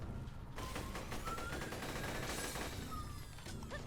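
Sustained enemy gunfire in Borderlands The Pre-Sequel on Aurelia, a steady stream of shots and mechanical clatter with brief ringing tones, moderately loud and without voices.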